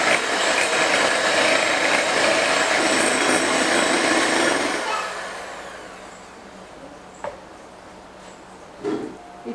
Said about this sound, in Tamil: அதில் ஒரு 4 முட்டையை நான் உடச்சி ஊற்ற போகிறேன். நல்லா பீட் பண்ணிக்கலாம்.